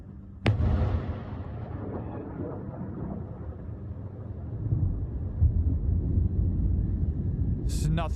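Explosions from Iranian strikes on U.S. bases in the Gulf: a sharp blast opens, then a long rumbling roar of distant impacts and bursts, with crackling pops near the end.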